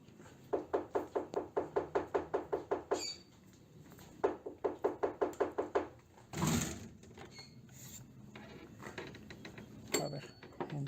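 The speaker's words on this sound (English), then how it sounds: "está tocando la puerta de mis hijos" Knocking on a children's bedroom door: two bursts of quick, evenly spaced raps, each about a dozen knocks, separated by a short pause, followed by a dull thud and rustling. Fairly close and distinct in a quiet room.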